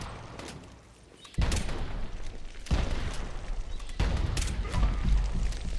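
Heavy gunfire in a video game, a shooter where the player has 198 bullets, sounding as three loud, dense bursts of rapid shots that start abruptly and continue over a constant background rumble.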